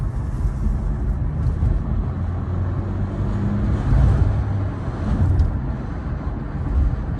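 A Mercedes-Benz W205 C200 sedan with a 1.6 diesel engine cruises along a coastal road, giving a steady, dense low rumble of engine and road noise that swells slightly at times, with no one talking.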